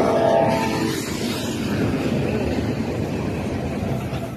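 A Norfolk Southern train rumbles past on the railway in Chambersburg, Pennsylvania, a steady broad roar with faint rhythmic clatter, fairly loud and continuous throughout.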